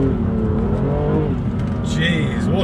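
BMW M2 Competition with the DCT gearbox pulls hard under acceleration, a loud, steady engine roar that climbs in pitch close to the microphone for nearly three seconds, with a higher whine rising near the end.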